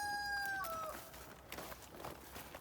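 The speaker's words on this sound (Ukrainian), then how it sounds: "Чуєте півні кукурікою" A rooster crows once, a clear drawn-out call dropping off at the end, followed by faint rustling and scattered distant noises in a quiet outdoor setting.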